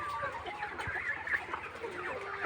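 Chickens cluck and chatter while feeding on a poultry farm, a steady busy murmur of many birds close by with occasional louder calls, and no voices over it.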